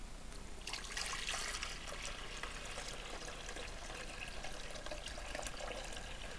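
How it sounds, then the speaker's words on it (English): Water pours steadily into a coffee machine that is set up with a computer, giving a continuous trickling, splashing stream at moderate, even level with no talking. "Pouring water over a computer."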